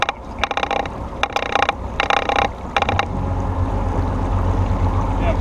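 A 2019 Tracker Targa V18 boat's outboard motor running on open water: a few bursts of splashing and scraping first, then a steady, low engine drone that carries on loud and close.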